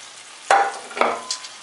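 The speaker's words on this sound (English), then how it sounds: "Give it a good stir." Red chili powder, turmeric and ajwain frying with onions in a pan for Punjabi kadhi, stirred in two quick scraping strokes over a steady sizzle.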